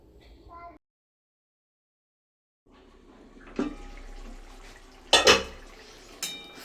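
Cauliflower rezala is stirred in a cooking pot and then covered with a lid: a few sharp metallic clanks and scrapes stand out over a low, steady kitchen hum after a brief silence.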